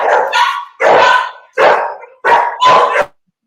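A dog barks loudly and close by in five sharp, evenly spaced bursts, some doubled, with a brief silence after the last one and no talking over it.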